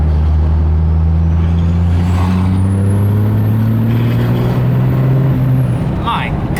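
A turbocharged truck pulling in fifth gear, heard from the cab as a loud, steady low engine drone rising slowly in pitch with a faint high turbo whistle above it, easing off near the end.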